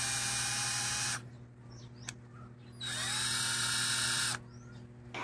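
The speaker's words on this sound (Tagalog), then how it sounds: "Dito sa cordless drill na to mga boss" A cordless drill's motor whines in two steady runs separated by a quiet pause, close and alone.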